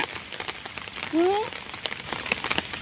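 Steady rain patters on a surface, with scattered close drops and a brief high voice-like sound partway through.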